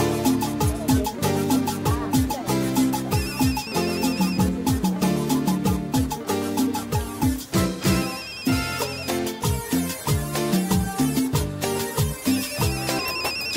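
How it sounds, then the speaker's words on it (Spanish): A cheerful melodic ringtone plays from a mobile phone, loud and close. Its bright tune repeats for over thirteen seconds, with light chime accents on top and no talking over it. "Ay, mi celular."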